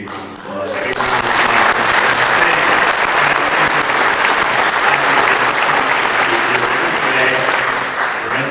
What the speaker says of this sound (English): so please give me a big round of applause